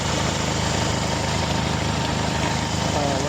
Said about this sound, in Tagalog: Ang tining pa na makina mga boss.